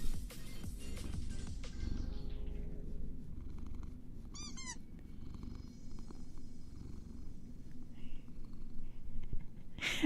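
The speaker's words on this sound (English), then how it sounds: "Can you hear him purring?" A house cat purring close by, a soft continuous low rumble running under faint background noise for about ten seconds, with a few brief higher chirps partway through.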